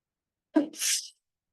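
A single close sneeze, a sharp intake followed by a breathy burst, in an otherwise quiet meeting room.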